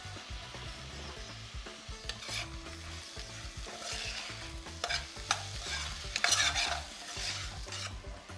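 Tomatoes sizzle in hot oil as the base for a fish pulao, with a spoon scraping and stirring through the pan in uneven strokes and a few louder clatters near the end, close and steady with no talking.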